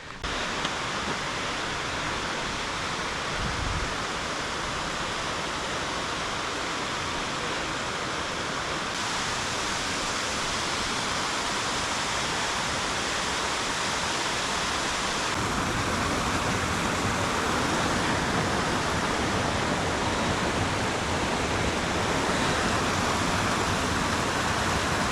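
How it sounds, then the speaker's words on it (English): Ptarmigan Falls heard from a forest trail, a continuous broadband rush of falling water that stays steady and grows slightly fuller later on, with no talking. "You can hear the waterfall, so we know we're getting close to Ptarmigan Falls."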